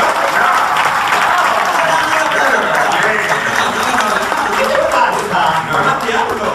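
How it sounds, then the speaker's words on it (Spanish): A studio audience at a circus-themed television show claps in a dense, sustained burst of applause that keeps a steady level throughout, with voices mixed in. "Igual yo quería pedir un fuerte aplauso para el señor Aníbal Pachano, que ganó el Bailando con mi sueño."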